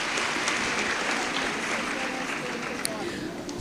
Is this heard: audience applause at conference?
yes